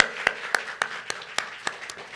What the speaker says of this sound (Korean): 다시 한 번 더 박수할까요?